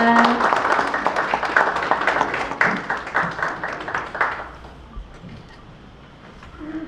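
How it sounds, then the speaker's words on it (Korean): Warm audience applause at a literary new-writer award ceremony, a dense patter of many hands for about four seconds that thins out and fades into quiet room tone. "큰 박수 부탁드립니다"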